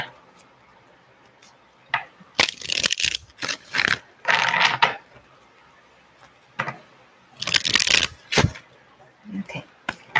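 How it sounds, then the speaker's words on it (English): Tarot cards shuffled in repeated bursts of riffling and flicking, loud and close, with pauses between the bursts. "I shuffle till the cards won't shuffle anymore."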